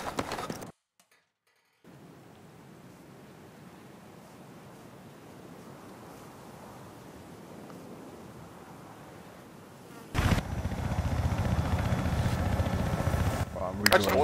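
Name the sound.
helicopter in a video game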